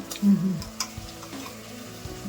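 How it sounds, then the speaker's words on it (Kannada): Onions with a spoonful or two of ginger garlic paste fry in hot oil, giving a soft steady sizzle with a few stirring scrapes from a spoon in the pan. "ಈರುಳ್ಳಿ ಸ್ವಲ್ಪ ಬಾಡ್ತಾ ಇದ್ದಂಗೆ 1-2 ಸ್ಪೂನ್ ಅಷ್ಟು ಜಿಂಜರ್ ಗಾರ್ಲಿಕ್ ಪೇಸ್ಟ್ ಹಾಕೊತಾ ಇದ್ದೀನಿ"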